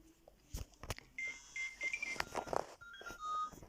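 Short electronic beeps and tones chirp in an irregular sequence as a phone dials in the Toca Life video game, mixed with clicks and soft background noise.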